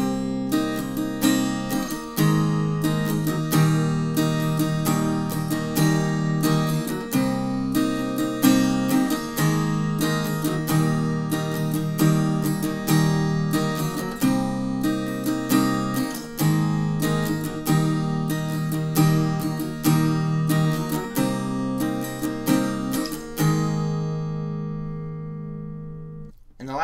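Electric guitar strumming plays the rhythm part of a song, with steady down-up chord strokes and accented hits throughout, ending on a ringing chord that fades out.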